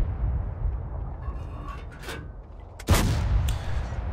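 An M26 Pershing tank cannon fires in a video game, a single heavy boom bursting out over a constant low battle rumble with fainter distant shots.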